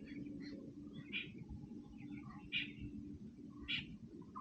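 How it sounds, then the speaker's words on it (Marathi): Faint birds chirp in the distance, a few short calls spaced a second or so apart over a quiet, low background hum. "तुम्ही ऐकू शकता पक्ष्यांचे आवाज येत आहेत"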